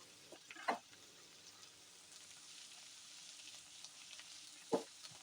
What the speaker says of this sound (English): We'll have to reduce these onions now.